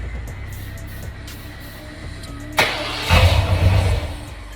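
A Ford Bronco engine cranks and briefly catches near the end, sputtering and flaring for a moment before fading, heard close up with no talking.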